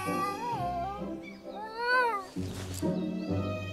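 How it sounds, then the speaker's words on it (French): Cartoon cat meowing while stuck up a tree in an animated Grimm fairy-tale forest scene: a series of drawn-out, rising and falling meows, loud and close, with a noisy break between them. "Mon chat n'arrive pas à descendre de l'arbre!"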